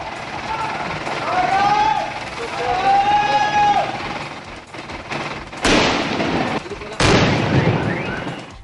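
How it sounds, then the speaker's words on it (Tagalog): A bomb found in a man's bag is detonated in a vacant lot in Davao City. Two sudden, loud bursts of rumbling noise follow a stretch of talk, with voices continuing around them. "Agad itong pinasabog sa bakanting lote."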